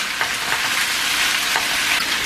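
Meat sears in a frying pan with spices for Georgian kharcho soup, giving a loud, continuous crackling sizzle with occasional sharper pops and stirring, and no one speaking.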